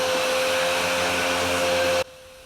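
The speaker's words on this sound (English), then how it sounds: "To hoover up on a laminate floor sounds like a chieftain tank." A vacuum cleaner on a laminate floor roars loudly and steadily with a high whine, then cuts off abruptly, leaving near silence.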